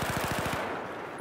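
Rapid machine-gun burst from a rifle fitted with a muzzle brake in Battlefield 4, about nine closely spaced shots in a steady rhythm for half a second, then a fading reverberant tail.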